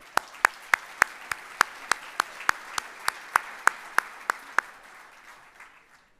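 At a community awards ceremony, clapping for award recipients comes as about fifteen crisp, evenly spaced claps in a steady beat. They are sharp and close, then stop abruptly, leaving a faint room tail.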